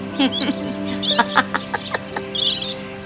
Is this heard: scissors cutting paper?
no